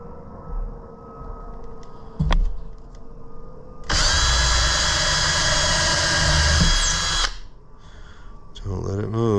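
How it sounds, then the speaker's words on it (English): A power drill bores small pilot holes for magnets, with one loud, steady whine lasting about three seconds, set between short clicks, handling noise and brief speech. "let's drill these little pilot holes"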